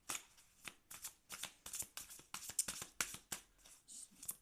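A deck of oracle cards is shuffled by hand in quick, rhythmic riffles and soft slaps, close and fairly quiet, continuing steadily for several seconds.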